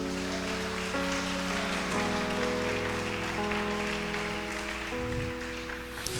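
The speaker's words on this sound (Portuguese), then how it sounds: "Dê uma salva de palmas aí" Congregation applause during a church sermon, a steady wash of clapping from many people under sustained organ or keyboard chords that carry through the whole stretch.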